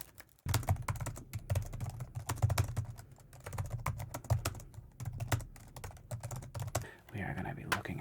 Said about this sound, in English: We're also going to be looking at classic laptop keyboards. An Acer Aspire 1.